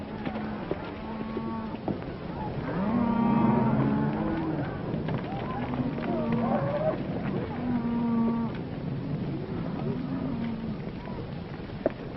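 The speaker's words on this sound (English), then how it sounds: "Hey, Joe, get those cattle watered down right away" A herd of cattle moos repeatedly in a rural Western setting, several drawn-out low calls overlapping at a middle distance against a constant background rumble, with no voices.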